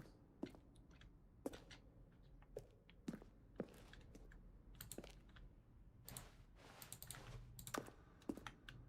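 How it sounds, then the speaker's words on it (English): Button presses from the video game The Stanley Parable, each a keyboard keystroke blended with a synth tone, click in an irregular series of sharp, quiet taps over about nine seconds, with soft rustling between them. "Button sounds. Used throughout the game when the buttons are pressed."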